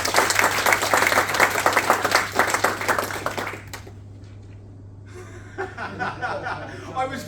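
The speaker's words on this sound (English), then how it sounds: "So give him another round of applause." A seated event audience gives a dense round of clapping that lasts a few seconds and then fades. Scattered chuckles and murmuring follow, along with a few lingering claps.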